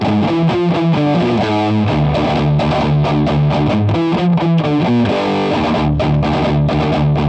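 Heavily distorted electric guitar plays its original-tuning riff with choppy chugging notes and ringing chords, loud, steady and unaccompanied.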